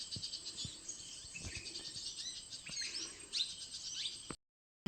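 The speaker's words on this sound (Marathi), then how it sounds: "पक्ष्यांचा आवाज येतो सगळीकडून," Birds chirp and twitter around a lake in a forest patrol area, with busy high-pitched calls overlapping against a soft insect-like background, with a few closer sharp notes before the sound cuts out abruptly near the end.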